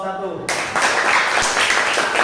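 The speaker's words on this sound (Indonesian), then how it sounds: "sekali lagi tepuk tangan buat kelompok 1" Applause from a classroom audience for a student group, clapping spread across the room and continuing steadily while a voice talks over it.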